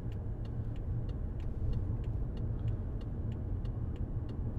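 Steady low engine rumble from a 2015 BMW 535d diesel saloon under hard acceleration on a dual carriageway, heard from inside the cabin, continuous and fairly loud with faint regular ticking on top; no talk.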